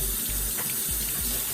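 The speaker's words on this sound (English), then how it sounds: "Just get it under your cool water, kind of rub it, scrub it." Cool tap water runs steadily into a sink while a lobster is rinsed and scrubbed, a close, continuous splashing hiss.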